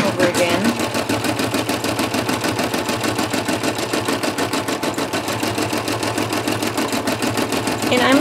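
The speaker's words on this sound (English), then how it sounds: "And now we're going to tack down my vinyl, the same vinyl piece, it's going to be the same stitching." An embroidery machine stitches down a vinyl appliqué piece, its rapid needle producing a steady mechanical rattle and hum that runs continuously at close range without pause.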